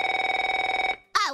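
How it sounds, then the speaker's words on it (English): A cartoon telephone from a South Park episode rings with a steady, rapid electronic trill for about a second, loud and alone, then stops before a voice begins. "that sounded like a ringing phone, Terrance."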